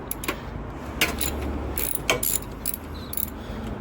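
A socket wrench with a 10mm socket ratchets bolts on the fusebox of a 1994–2001 Acura Integra, giving quick clicking bursts in irregular runs over a steady background, close by and without speech.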